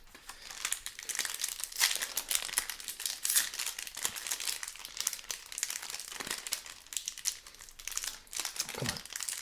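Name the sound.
booster pack wrappers being torn open and crinkled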